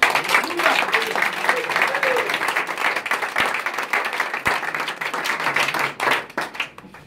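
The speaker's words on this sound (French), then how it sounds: "Est-ce qu'on peut l'acclamer?" A church congregation applauds and cheers, sustained dense clapping from a large crowd that fills the room, loud and continuous, thinning slightly toward the end.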